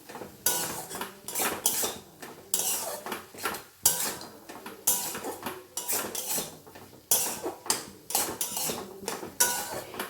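Spices are stirred into chicken meat in a pan for a paratha filling, a metal spoon scraping and clanking against the cookware in steady, rhythmic strokes, close and clear with no talk.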